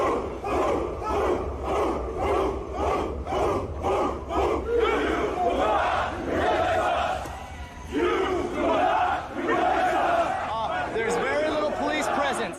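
A large crowd of torch-bearing marchers in Charlottesville chanting in loud, rhythmic unison, with steady repeating shouts and crowd noise throughout.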